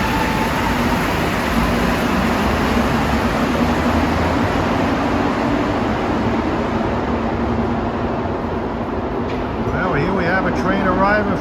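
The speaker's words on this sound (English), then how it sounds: "Train arriving from Montmorency." A Montreal Metro train arrives from Montmorency with a steady, loud rumble and rolling hum throughout, rising whine near the end as it pulls in.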